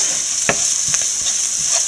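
Elephant foot yam with crushed chili stir-fries in a pan, giving a loud constant sizzle with a few scrapes from stirring, close by and with no voices.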